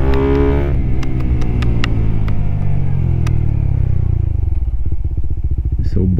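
A Suzuki Raider 150 Fi motorcycle with a stock sprocket roars loudly up close, its engine note falling as it decelerates and settling into a rapid, pulsing idle near the end.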